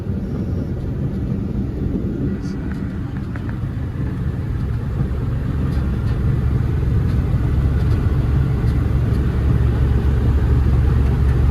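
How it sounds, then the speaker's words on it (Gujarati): A vehicle overtaking a trailer truck on a highway near Porbandar: a steady, loud road and engine rumble with wind noise that builds slightly through the pass, with no talking. "અત્યારે આપણે જઈએ ટેલર ને ઓવરટેક કરીએ"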